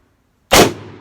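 A single loud, close gunshot from a 2020 Colt Python revolver cracks out of silence and decays into a short ringing echo.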